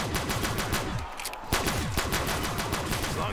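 Dense automatic gunfire from Call of Duty Zombies, rapid shots stacked into a continuous rattling barrage that keeps up loudly for the whole stretch with only a brief thinning partway through.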